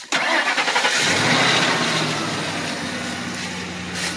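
A Ford van engine cranks and catches after a catalytic converter replacement, then settles into a steady, even idle. It is loud and close, with a smooth running hum and no speech over it.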